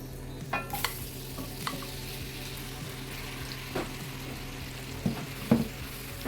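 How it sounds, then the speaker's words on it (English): Chicken wings frying in a pot of olive oil and melted butter, a steady low sizzle with occasional louder crackles and pops, close by, no voices. "Then I'm going to pour in the wings."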